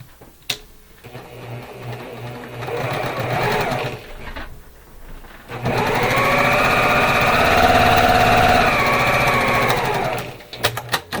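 A sewing machine stitches a quarter-inch seam on a quilt block, running in two steady whirring bursts: a shorter one, a pause, then a longer continuous run, close and clear with no talking.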